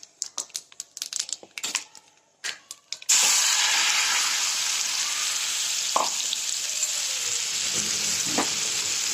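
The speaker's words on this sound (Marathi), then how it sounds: "चॉपरमधून बारीक केलेले कांदे ह्याच्यामध्ये टाकते" Scattered clicks and taps give way after about three seconds to a sudden loud, steady sizzle as finely chopped onions hit hot tempering oil, with a few small knocks over the continuing hiss.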